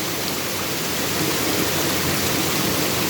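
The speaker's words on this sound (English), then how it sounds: "This waterfall is situated in Pakistan province Balochistan, district Duki." A waterfall of clean, cold mountain water in District Duki, Balochistan, Pakistan, gives a loud, even, broadband rush that continues without a break and with no talking.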